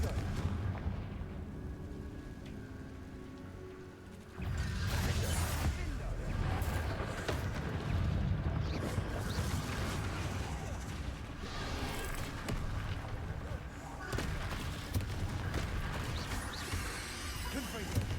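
Confringo fire spells explode in Hogwarts Legacy, with repeated booming blasts and crackling bursts that thicken after a quieter opening and keep rolling at moderate, fairly low volume.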